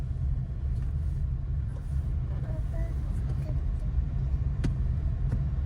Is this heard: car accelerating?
yes